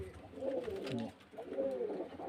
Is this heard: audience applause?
no